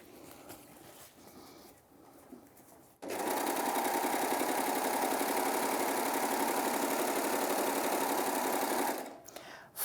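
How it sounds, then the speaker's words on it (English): A Baby Lock Acclaim sewing machine stitches through fine two-ply tissue fabric, starting after about three seconds of quiet room sound and then running in a steady, loud, close mechanical whir for roughly six seconds before stopping. "I can sew on any fabric and I never have to worry about changing a thing on this machine."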